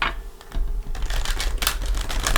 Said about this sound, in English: Give it a couple